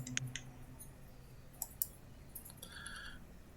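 Faint mouse clicks while playing the city-building game Banished, a few sharp isolated taps scattered over a quiet background, with no talking.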